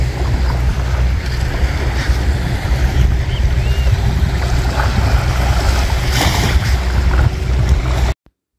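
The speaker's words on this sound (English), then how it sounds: "it's always refreshing to be down by the seaside" Steady wind and surf wash along the Icacos shoreline in Trinidad, with fishermen's boats near the water, a continuous broadband roar of waves and breeze against the microphone that runs unbroken and then cuts off abruptly.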